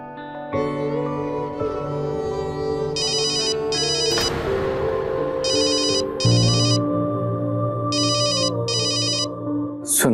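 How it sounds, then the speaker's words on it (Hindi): A mobile phone ringtone rings for an incoming call, playing a loud, steady melodic tune with repeating bright electronic beeping phrases throughout, with no voices. "लेकिन सुनैना मुझे इस वक्त क्यों कॉल कर रही है?"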